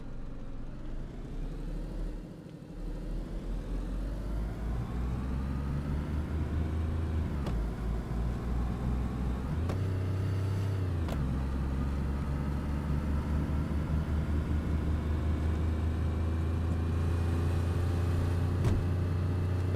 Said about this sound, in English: The car does sound a lot better inside.